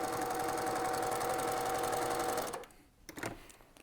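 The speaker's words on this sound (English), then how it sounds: "So I'm just going to sew off this edge as well." A sewing machine runs steadily along the edge of a fabric composition book cover for about two and a half seconds, loud and close, then stops, leaving a few faint handling clicks.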